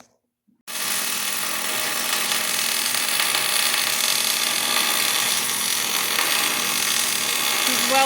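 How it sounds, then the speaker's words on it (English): Power grinder working a rough cut metal bracket held in a vise for an IH 4700 air ride conversion, a steady loud close whine that starts abruptly and holds unbroken. "and I'll grind on it."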